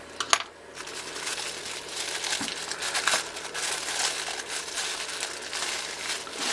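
Steady crinkling and rustling of thin plastic close by, with a few sharper crackles, continuing throughout without any talking.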